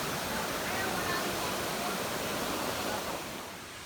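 Kanching Waterfall at Rawang pours in a dense, steady roar of falling water that fills the scene evenly and fades slightly toward the end.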